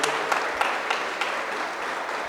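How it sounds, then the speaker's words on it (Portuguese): An audience at a talk on Adinkras and African ancestral wisdom applauds a speaker, a dense, steady patter of clapping with a few sharper claps standing out at regular intervals and no talk over it. "Eu peço para vocês uma salva de palmas mais uma vez para a professora Moeua"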